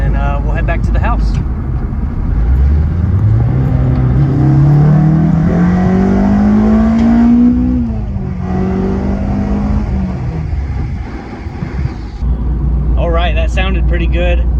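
Acura RSX Type-S fitted with a Skunk2 Ultra Street intake manifold revs hard through the VTEC crossover, engine pitch climbing steadily for several seconds, then backing off, loud and close from inside the car.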